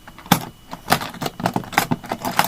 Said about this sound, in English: the way the latches sound